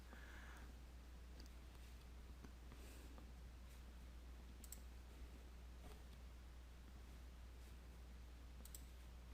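Computer mouse clicks while joining a workstation to a domain, faint sparse single clicks spread irregularly over a low steady hum.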